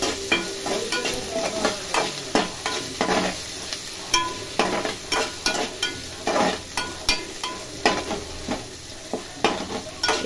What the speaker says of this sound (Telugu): మంచిగా వేగాలి. ఇది పండు వేగితేనే బాగుంటుంది అన్నట్టు.